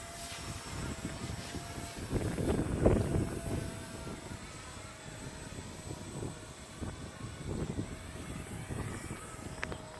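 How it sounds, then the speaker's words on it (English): Outdoors during a model Apache helicopter flight session, strong wind buffets the microphone with continuous low rumbling gusts, swelling louder around the middle, over a faint distant motor whine. "That's how much wind we got"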